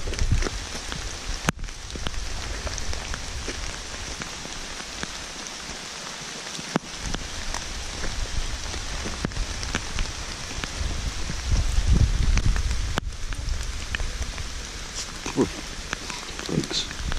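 Steady rain falls throughout on a wet day at a crystal-mining spot, a dense continuous patter with a few brief knocks and a louder low rumble near the end, with no talk over it.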